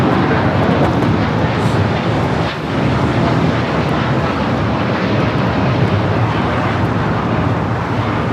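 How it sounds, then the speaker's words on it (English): A United Airlines Boeing 787-9 Dreamliner taking off produces a loud, continuous broadband jet roar with wind buffeting, holding steady throughout with only a slight dip midway. "That is United Airlines 2127 taking off to Newark on the 787-9 Dreamliner"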